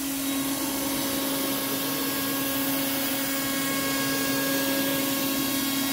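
A PrintNC CNC router with a tool changer cuts an aluminium bracket at a steady feed, a loud, continuous high-pitched spindle whine with a rushing hiss and no breaks.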